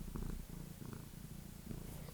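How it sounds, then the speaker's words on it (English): A cat purrs softly up close, a low rumbling purr with a gentle rhythmic rise and fall of inhale and exhale, faint and alone with no talk. "Can you pick up on his, purring?"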